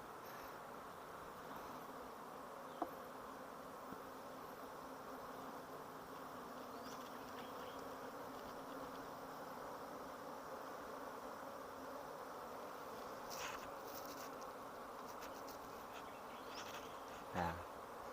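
Bees buzz steadily around an open hive while honeycomb is harvested, a dense continuous insect drone close by, with a brief handling knock near the end.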